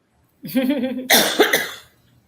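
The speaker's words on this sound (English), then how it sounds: "That cough is not good." A single raspy cough, close and fairly loud, with a short voiced lead-in and a harsh burst, then quiet.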